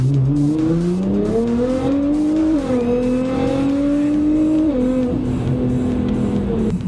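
A Nissan GT-R launching hard under launch control, its engine note climbing steadily through the gears with brief dips at shifts, loud and close throughout without talk.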